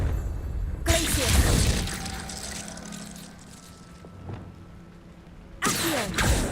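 Glacius ice spell from Hogwarts Legacy bursting and shattering in two loud crackling blasts, one at the start and a second near the end, with a quieter shimmering, rumbling stretch between them.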